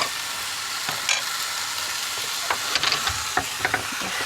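Hot dogs sizzle steadily on a two-burner stove in a Winnebago Travato RV, with a constant hiss and a few sharp clinks and scrapes from handling the food in the pan.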